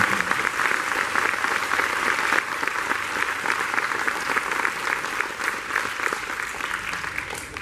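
A school audience applauds students at a high school spring band concert, with steady, dense clapping filling the hall throughout at an even loudness.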